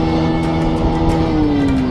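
A KTM Duke 200 motorcycle engine holds a loud, steady rev, its buzzing tone sliding slightly lower toward the end, heard close and alone.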